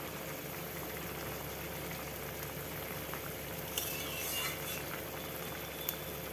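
A pot of thin chapila fish curry broth simmers with a low, continuous bubbling. A few small clinks and scrapes of a utensil rise briefly above it. No one speaks.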